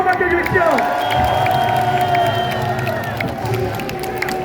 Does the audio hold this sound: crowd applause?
yes